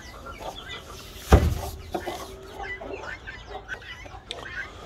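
Chickens cluck softly and silver Brakel chicks peep here and there, with a sharp thump early on and a quiet background.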